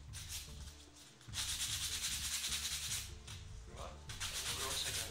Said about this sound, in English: Just sand the back of it along the edges.